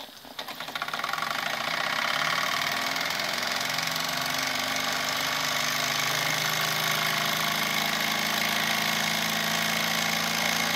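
Wilesco D101 toy steam engine from the 1990s running in its workshop setup, exhaust piped into a chuff pot, giving a loud, steady, rapid mechanical chugging and whirring that starts up then holds constant, with no talking.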